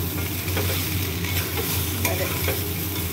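Steady, loud sizzling as a fish head is stir-fried in a pan with rice and spices, with soft scraping of the spatula now and then over the continuous hiss.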